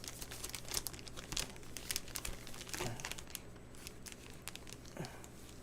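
Foil or plastic wrapping on a pack of trading cards crinkles and tears close up, a continuous rustle with sharper rips scattered throughout, no talking.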